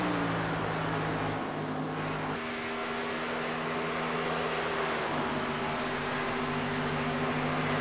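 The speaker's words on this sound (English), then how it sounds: "And if it sounds like you're hearing 2 cars," Two stock-car engines roar steadily in a NASCAR sim race at Las Vegas, their droning tones sitting at different pitches and shifting as the revs change, loud and continuous with no talk.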